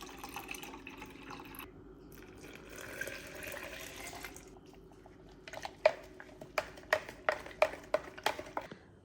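Warm water is poured to mix goat milk formula for a rescued baby goat, starting as a soft, steady stream and then turning into a run of sharp, rhythmic drips and splashes, faint and close.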